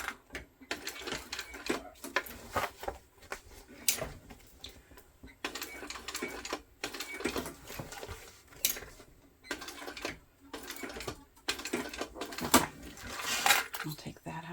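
A sewing machine top-stitches a fabric tote bag in short, rapid bursts that stop and start, with a person talking quietly over and between the runs.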